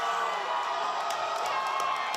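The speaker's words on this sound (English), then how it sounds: "if you can't tell by the deafening explosion of this crowd, the Dodgers beat the New York Yankees" A stadium crowd roars after the Dodgers beat the New York Yankees in a World Series game, a steady distant wall of cheering and whoops that holds level without a break.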